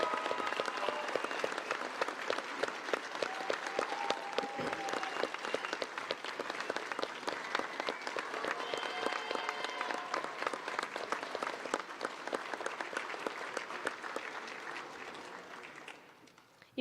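A commissioning ceremony audience applauds new second lieutenants, sustained dense clapping from a sizable crowd at moderate distance, a few voices and cheers mixed in, tapering off at the end.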